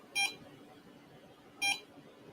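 A ghost-hunting EMF meter gives two short, sharp electronic beeps about a second and a half apart over a quiet background hiss.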